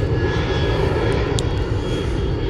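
Steady, loud drone of an airplane engine flying overhead at the seaside, continuous and close for the whole stretch, with no talk.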